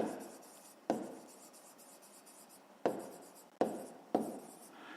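A pen scratches out a fifth-grade math exercise by hand on paper, with soft continuous scribbling broken by several sharp taps as new strokes or lines begin.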